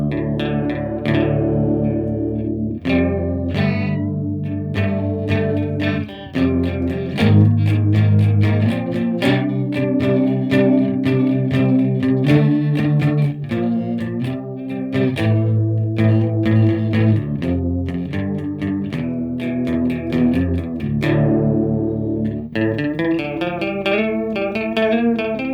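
Electric guitar played through a Sondery Chorus pedal with depth at maximum, giving a lush, wavering doubled tone across sustained chords and picked notes, loud and continuous for the whole passage with no talking.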